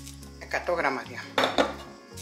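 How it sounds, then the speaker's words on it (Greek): A metal fork clinks and scrapes against a small jar while sourdough starter is stirred into water, a few quick uneven bursts of clatter heard close up. "Πήρα ένα πυρούνι, γιατί με το πυρούνι ανακατεύεται καλύτερα και πιο γρήγορα"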